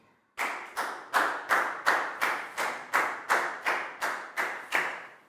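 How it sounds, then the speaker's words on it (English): A Year 4 class claps for a pupil in a rhythmic unison pattern: about eleven evenly spaced, sharp group claps, each decaying briefly, repeated steadily after a short quiet start. "Big round of applause for Net"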